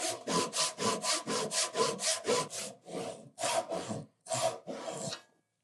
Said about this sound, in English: Now I've set the piece plumb in the vise, and I'm going to saw straight down.